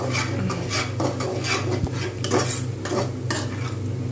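A spoon repeatedly scrapes and stirs pitha filling in a pan as it cooks down until dry, giving steady rhythmic metal-on-pan strokes over a low hum, close and moderately loud.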